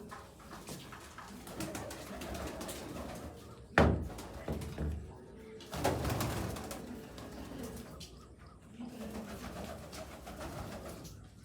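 Black pigeons coo softly and repeatedly close by, with a few sharp thumps and rustles from their movement in between.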